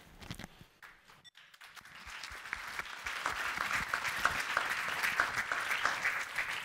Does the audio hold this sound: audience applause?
yes